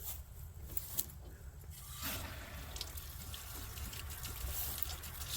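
Water flushes steadily through the corroded cooling system of a natural gas Generac Model KW generator, a faint continuous rushing and splashing with occasional small clicks and taps, no voices present.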